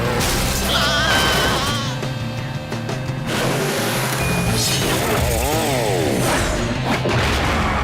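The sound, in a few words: big drilling machine running in a cartoon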